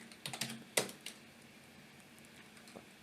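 Keys tapped on a computer keyboard as a username is entered at a Linux terminal, a quick uneven burst of close clicks followed by a few scattered keystrokes, with no talking.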